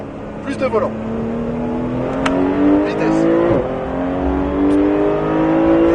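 A Porsche GT3 race car accelerates on a track at Pôle Mécanique Alès, its engine loud and close as the pitch climbs through the gears, while an instructor talks over it.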